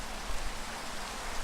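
Rain falling in Minecraft, a dense, steady hiss of downpour filling the whole clip at an even, moderate loudness with no voices.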